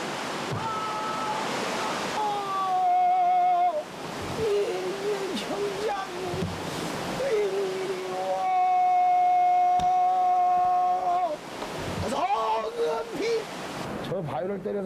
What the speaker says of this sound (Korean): 9갈래로 힘차게 쏟아지는 폭포